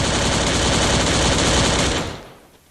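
Sustained automatic gunfire from the Garena Free Fire battle royale game, a dense, loud rattle of rapid shots lasting about two seconds before cutting off and fading into quiet.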